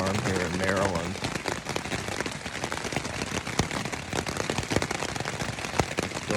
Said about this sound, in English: We're getting a wind and a rainstorm here in Maryland.